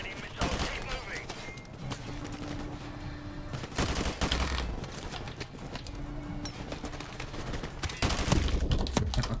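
Gunfire from the video game Call of Duty Modern Warfare Remastered during a missile countdown mission, loud bursts and volleys of shots in repeated clusters over a constant din of battle, with speech mixed in.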